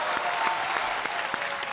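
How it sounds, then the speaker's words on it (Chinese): Studio audience applause on a Chinese game show where teppanyaki chefs compete, a steady dense patter of many hands clapping at an even level throughout, with no talk over it. "赶快来一下，掌声鼓励。"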